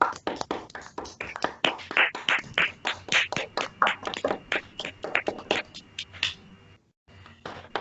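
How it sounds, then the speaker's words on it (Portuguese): Scattered, uneven hand clapping from a small online group greeting its master, individual claps distinct and close, thinning out and briefly dropping to silence near the end. "salva de palmas para o nosso..."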